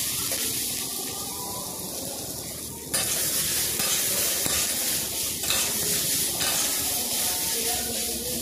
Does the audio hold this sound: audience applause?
no